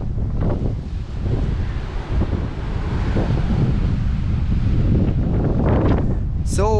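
Wind buffets the microphone as rough sea surf churns steadily at Little Bay beach, a constant loud roar with no pauses.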